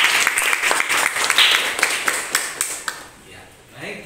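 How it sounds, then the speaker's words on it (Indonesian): Children in a classroom clap in a loose, uneven burst of individual hand claps that thins out toward the end, with voices heard in the room. "Tepuk tangan anak-anak."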